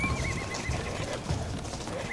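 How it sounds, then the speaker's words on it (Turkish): Horses whinnying with a wavering high neigh over a busy bed of hoofbeats clopping steadily nearby, no voices. "Bu nöbetçi atlar da kim? Bizim nöbetçi atlardan değildirler."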